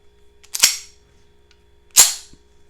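A magazine is seated into a handgun with two sharp, crisp metallic clicks about a second and a half apart, close and distinct against an otherwise quiet room with a faint low hum.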